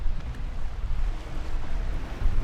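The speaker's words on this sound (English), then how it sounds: "Here comes a gust." A gust of wind sweeping over a lake in the Boundary Waters on a stormy day, a loud low rumbling roar buffeting the microphone, steady and unbroken, with no voices.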